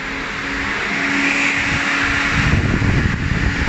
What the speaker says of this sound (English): Just gonna try my fans, see if they still work.